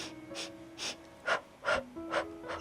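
Steady workout breathing during a mindful Pilates session, with a series of audible inhales and exhales in a slow, even rhythm, close and fairly soft.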